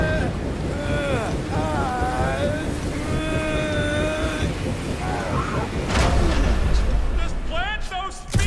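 Strong wind gusts roar steadily in the Guardians of the Galaxy video game, a loud, constant rushing that swells near the end, with voices talking over it throughout.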